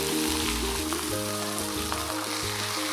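Fish fries in oil in a pot, giving a steady dense sizzle and crackle throughout with a musical tone in the background and no talk.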